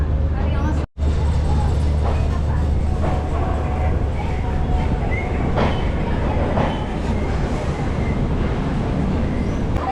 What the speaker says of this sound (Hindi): फाइनली हम लोग की ट्रेन अराइव कर रही है सियालदा जंक्शन पर